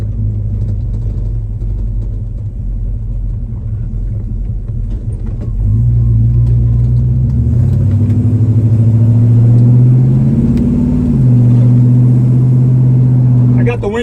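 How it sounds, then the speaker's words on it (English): A 1977 Chevrolet C10 Cheyenne pickup with a 305 V8 cruises with the windows down on a Hawaii interstate. Its exhaust gives a loud, steady low drone that climbs in pitch partway through as the truck speeds up. "I got the windows down right now so you can really hear the exhaust."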